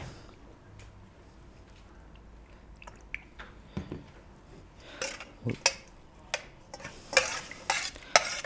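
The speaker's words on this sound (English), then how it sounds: "Gonna mix it together." Oregano, salt, vinegars and olive oil are stirred together in a restaurant kitchen, with scattered clinks and wet scraping strokes that grow louder and quicker toward the end, close by and without voices.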